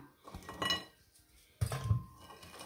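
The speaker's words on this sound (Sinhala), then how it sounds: "කඩලා දාගන්නවා අපි මේ බිස්කට් ටික" Oreo biscuits snapped by hand and dropped into a blender jar for a milkshake, giving two short, close clattering knocks against the container separated by a quiet pause.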